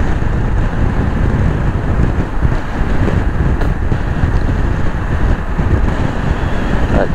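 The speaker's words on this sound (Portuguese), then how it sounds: "tem bastante vento" Strong wind buffets the microphone in a steady, loud roar near a ferry crossing around Ushuaia, with low rumbling gusts throughout and no talking.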